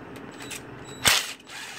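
A ratchet with a 10 mm socket works loose the fuel injectors on a BMW E30 M42 engine being prepped for a turbo build, giving one short, close, sharp burst of metallic clicking against a quiet workshop background.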